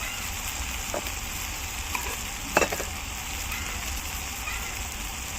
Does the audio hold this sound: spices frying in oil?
yes